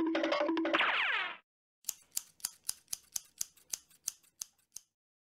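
A run of about a dozen crisp scissor snips, evenly spaced and close, following a short burst of unrelated tonal sound at the start.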